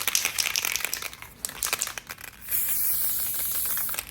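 Crinkly rattling and tapping, then a long continuous hiss of an aerosol spray paint can spraying up close.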